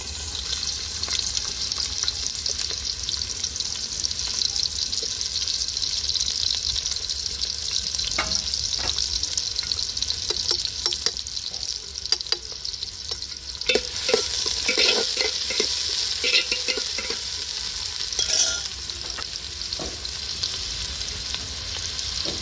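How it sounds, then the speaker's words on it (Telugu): Onion pieces frying in hot oil for a fish curry with raw tamarind, a steady close sizzle with intermittent crackles and stirring scrapes throughout. "నూనె కాగింది, ఉల్లిపాయ ముక్కలు వేస్తాను"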